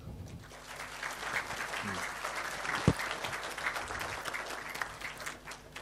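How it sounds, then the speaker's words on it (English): A conference audience at a C++ programming talk applauds the speaker in a steady, fairly distant wash of clapping that lasts the whole stretch, with some crowd murmur underneath. "So everybody round the applause for the speaker."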